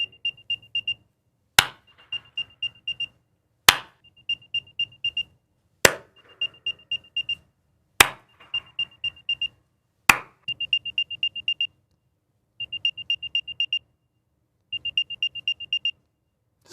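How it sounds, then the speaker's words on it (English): An Apple Hermès AirTag playing its locating sound, repeated rapid high-pitched beeping in short bursts, each group introduced by a sharp click-like tone, close and clear with no talking. "the AirTag beep"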